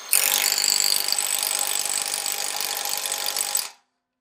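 An air-powered impact tool drives down a fine-thread bolt in one loud, continuous burst of rapid hammering rattle that lasts several seconds and then cuts off abruptly.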